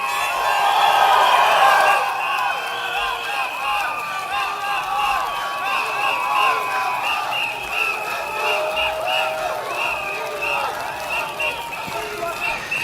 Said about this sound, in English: Sorry, what was that? You're cheering?